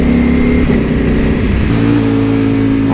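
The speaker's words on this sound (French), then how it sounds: "Écoutez-moi ce shifter." A Ducati Panigale V4 Speciale, a 226 hp motorcycle, revs hard through quickshifter gear changes. Its loud, close engine note drops and climbs again at each shift.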